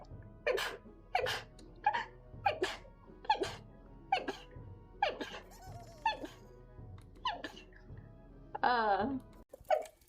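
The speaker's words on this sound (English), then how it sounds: "Hold on, I gotta sneeze." A run of short, sharp sneezes from one person repeats in a quick, irregular series at close range, with gasping breaths between them and a final longer, squeakier burst.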